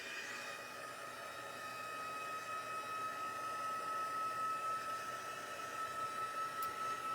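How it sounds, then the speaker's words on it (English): A crafting heat tool blows continuously to dry ink on a stamped paper project, giving a steady airy whir with a faint whine that holds at an even level throughout and has no talking over it. "I'm going to grab my heat tool. I can get it plugged in here, and I am going to dry this."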